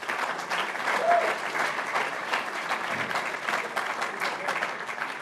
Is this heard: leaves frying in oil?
no